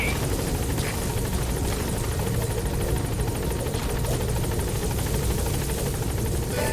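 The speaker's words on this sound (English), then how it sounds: "Support helicopter has arrived." A support helicopter in Metal Gear Solid V arriving at a landing zone, its rotor droning on steadily and loudly throughout, a dense continuous whir with no voices.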